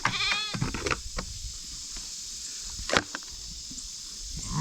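Sheep in a pasture bleat near and loud, a wavering call at the start and another sharp bleat midway, with quiet outdoor background between.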